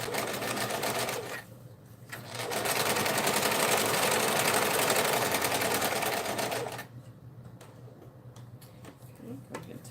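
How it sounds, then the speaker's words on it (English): A sewing machine stitches a half-inch seam on a tote bag with a number 3 stitch, running steadily and loudly for several seconds in the middle, with quieter pauses before and after. "and then I'll start sewing my 1/2 inch from there"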